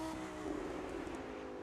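A car engine in The Crew 2 video game hums at a steady moderate level, a low droning tone with slight pitch shifts, no talking over it.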